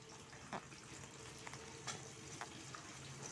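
Mustard and fenugreek seeds fry in hot oil in a pan, a steady close sizzle with a few sharp pops and crackles scattered through it, and no voices.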